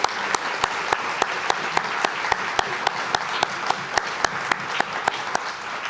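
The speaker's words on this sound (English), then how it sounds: "Let's give those guys a round of applause." Audience applause at a scouting district awards dinner fills the room steadily, with one nearby clapper standing out as sharp, regular claps over the wider crowd.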